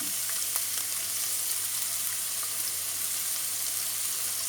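Onions frying in oil in a pan for chicken karahi make a steady, fairly quiet, bright sizzling hiss with a few faint crackles, heard alone with no voices.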